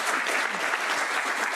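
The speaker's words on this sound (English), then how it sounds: "maybe we should give him applause" Audience applause for Michael Kirby, chair of the Commission of Inquiry on Human Rights in the DPRK, at a human rights dialogue event; a steady, dense round of clapping throughout, with no talk over it.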